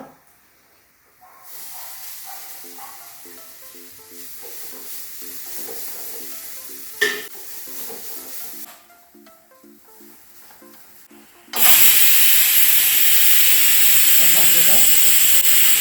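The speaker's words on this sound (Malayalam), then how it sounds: "ഈ തേങ്ങയും കൂടി ഇതിനകത്തിട്ട് മൂപ്പിക്കാൻ കേട്ടോ" Sizzling and stirring in a hot pan builds to a loud, steady hiss of grated coconut roasting, with a voice talking during the quieter first part.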